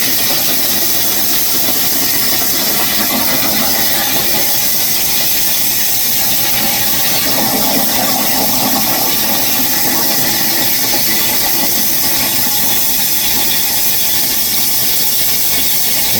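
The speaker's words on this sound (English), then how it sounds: "Alright, now we're about to cut the rudder." Steel cutting on the rudder of Battleship Texas makes a loud, continuous hissing roar with an engine-like drone that runs unbroken for the whole stretch, close and without talk.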